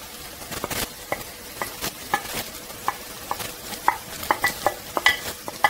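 Onions and peppers fry in oil in a pan alongside meatballs, with a spoon stirring and scraping in quick, irregular strokes over a light, steady sizzle.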